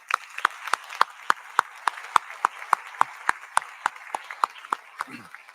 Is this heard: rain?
no